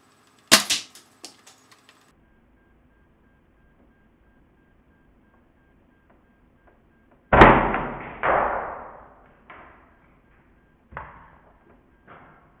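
A Longshot toy blaster fires into a plastic target, one sharp crack early on, then a louder impact burst about seven seconds later followed by several fading hits, all close and with no talking.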